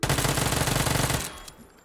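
Rapid automatic fire from an Uzi submachine gun in the video game PUBG, a dense, steady burst lasting over a second, then cutting off into a brief fading tail.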